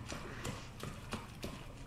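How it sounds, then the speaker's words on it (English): Footsteps in Resident Evil 2 Remake, a steady run of hard, clacking steps that sound almost like hooves, repeating about every third of a second at moderate level over a dense game background. "I'm hearing footsteps."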